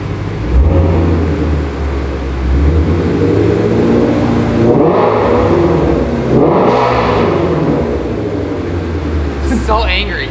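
A Ford Mustang GT350 engine fitted with a Corsa Double Helix X-pipe exhaust revs loudly and close, with deep rumbling swells and sharp throttle blips over a continuous idle. People talk over it.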